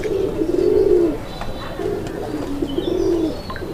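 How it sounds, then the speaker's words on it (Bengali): A male desi pigeon coos in low, rolling phrases, three drawn-out calls close by, with faint background chatter. "দর্শক আপনারা দেখতেই পাচ্ছেন কি পরিমাণ ডাকের নরটা, মাশাআল্লাহ একদম ভরপুর ডাকের নর।"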